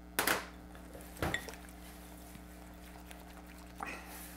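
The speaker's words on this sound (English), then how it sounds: "I'm going to add the sugar. Mix that up, and I'll add the salt too" A utensil mixes sugar and salt into melted chocolate and butter, making three separate sharp clinks against the bowl, spaced a second or more apart, over a quiet low hum.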